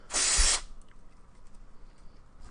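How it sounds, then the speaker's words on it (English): A single short hiss of aerosol flux cleaner sprayed onto a flight controller circuit board, a sharp close burst lasting about half a second, then near silence. "now I'm going to take some flux cleaner and remover in an aerosol can, and let's spray this off"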